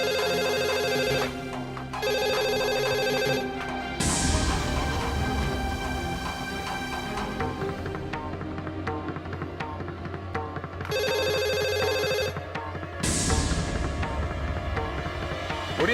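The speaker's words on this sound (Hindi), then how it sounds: "फोन उठाओ" A telephone rings in a Hindi TV serial, repeating electronic ringtone bursts in a regular pattern over dramatic background music.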